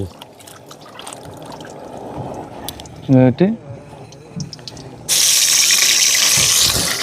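Dried fish being rinsed and swished in water, with splashing and sloshing under background noise, a brief sharp clatter midway, then a loud steady hiss of running water at the end.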